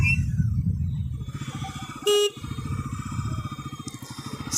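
A Bajaj Pulsar NS400 motorcycle idles close by with a rapid, steady pulsing engine beat, briefly interrupted by a short sharp tone before the throbbing resumes and revs slightly toward the end.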